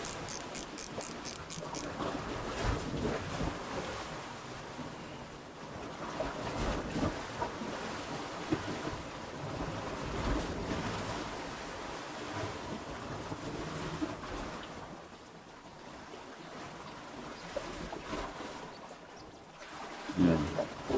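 Choppy sea water sloshes and slaps around a small fishing boat, with gusting wind buffeting the microphone in an uneven, ongoing wash of noise.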